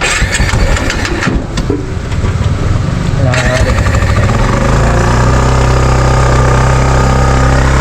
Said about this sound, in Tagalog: Painitin muna natin ang motor.